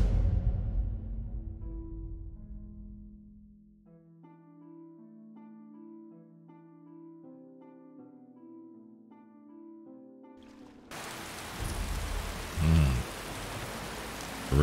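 In the video game Skyrim, soft musical notes fade and then a dense, steady hiss of falling rain sets in, loud and continuous for the last few seconds, with no voices.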